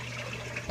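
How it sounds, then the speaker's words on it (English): Water flowing through an irrigation pipe in a feeding system, a soft continuous trickle with a low steady hum beneath, heard up close, ending in a brief knock. "When you walk up, you can hear water flowing in this one."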